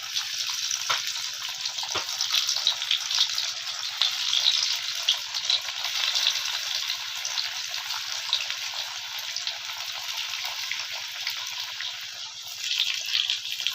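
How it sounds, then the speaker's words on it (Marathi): Methi vadi pieces, fenugreek-leaf fritters, deep-frying in hot oil, giving a steady, bright bubbling sizzle with a few soft clicks as pieces drop in, close and even throughout with no voices. "आता आपण ना हे एक एक वड्या ह्याच्यामध्ये अशा सोडायच्या आपल्याला"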